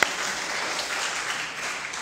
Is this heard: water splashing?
no